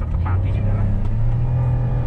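A Toyota Raize with a 1.0 turbo engine and CVT accelerates, its steady low engine drone heard from inside the car under people talking.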